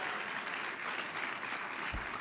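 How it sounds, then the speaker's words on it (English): Audience applause at a press event for children on stage: sustained, even clapping from a crowd, moderately distant, filling the moment with no speech over it. "the kids on the stage who are behaving very well deserve an amazing round of applause"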